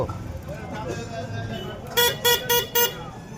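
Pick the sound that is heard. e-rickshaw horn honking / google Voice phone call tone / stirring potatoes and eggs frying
e-rickshaw horn honking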